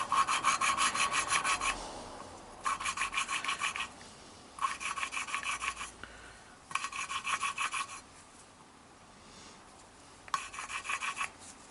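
Valve lapping on a classic Mini cylinder head, a stick and grinding paste working the valve against its seat: five or six close, harsh rasping bursts of about a second each, split by brief pauses while the valve is lifted and turned.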